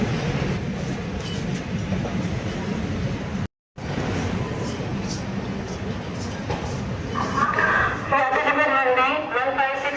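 Sainik Express train pulling into Jaipur railway station during the monsoon: a steady rumbling roll of carriages with a brief dropout, then high squealing tones near the end, and some voices mixed in.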